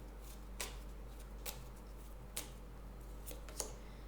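Tarot cards being handled and shuffled, with sharp dry card snaps at irregular intervals over a quiet low hum, close and fairly soft, with no talking.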